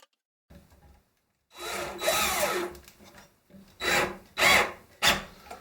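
A power drill drives screws into wood in bursts, a whirring, grinding buzz broken by short pauses and repeated several times close up.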